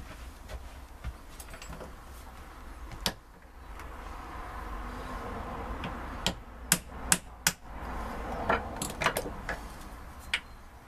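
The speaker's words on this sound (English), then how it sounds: "just going to use a socket, just tap that down just to make sure it clips in." A socket is tapped down onto a part of a Triumph manual steering rack during a rebuild, giving a handful of sharp metallic knocks, some single and some in quick clusters, against a quiet workshop background.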